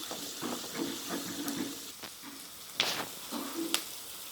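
Onions sizzle in a hot pan, fried only until half-cooked for chilli chicken, with a steady low hiss broken by a few sharper crackles and stirring clicks near the end.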